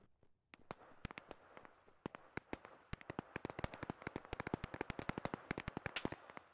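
Gunfire from a sniper position in the video game Operation: Harsh Doorstop, a long run of sharp, loud shots that come faster and closer together as it goes, with a brief quiet gap early on.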